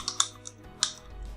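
A few key presses on a computer keyboard while entering a command, three or four distinct clicks spread across a short moment, close and fairly quiet with a faint low hum beneath.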